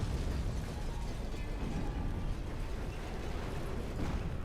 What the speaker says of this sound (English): Destroying the cannons on one side of your airship is what destroys it completely